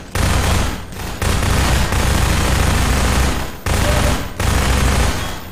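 Very loud, close machine-gun fire in Half-Life 2, sustained bursts of rapid shots broken by two short pauses, with no voices over it.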